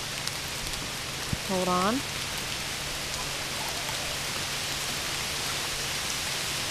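Heavy rain pours steadily on a backyard creek during fishing, a loud constant hiss throughout, with a brief spoken phrase early on.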